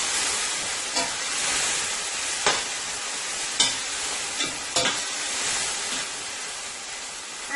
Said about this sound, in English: I'm going to let that fry up for about 3 minutes before I add the potatoes